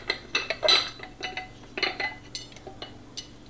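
A plate set over a rice mold and the two flipped over together, a quick series of light ceramic clinks and knocks, close and fairly quiet, with no voices.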